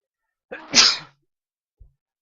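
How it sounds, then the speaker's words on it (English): A single loud sneeze bursts out close by, followed by a brief faint thump and then silence. "That sneeze that could have killed me."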